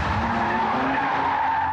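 A Lamborghini Countach sports car, capable of 180 to 195 mph, drives past with a loud sustained roar and tire noise, close and continuous, with no talking.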